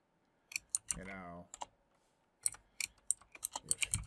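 Close keyboard typing in quick bursts of clicks, interrupted by a short spoken sound partway through.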